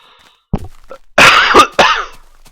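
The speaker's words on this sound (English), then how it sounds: "Excuse me there as I cough" A few sharp coughs close to the mic, two or three harsh bursts in quick succession with short pauses between them.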